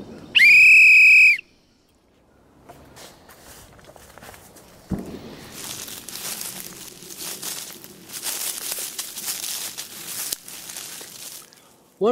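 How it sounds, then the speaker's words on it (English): A single shrill whistle blast is blown outdoors in a forest, loud and close, lasting about a second, followed by crunching footsteps and rustling on the forest floor. "If the shots get too close, I'll just blow my whistle."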